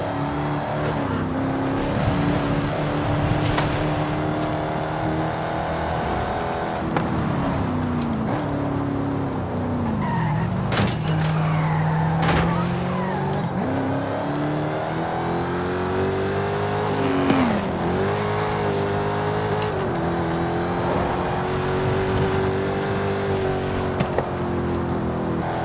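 A Dodge Challenger SRT Demon, a high-horsepower rear-drive muscle car, roars at full throttle in the Forza racing game, its engine note rising and falling through repeated revs and gear changes for the whole stretch, loud and continuous.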